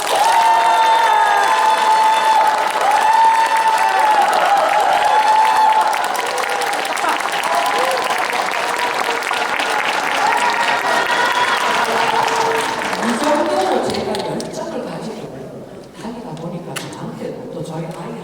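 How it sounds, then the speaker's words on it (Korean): A lecture hall audience claps together on cue with cheering and shouts, loud and sustained at first, then the applause thins and fades into scattered voices and chatter near the end. "우리 다 함께 박수를 쳐봅니다"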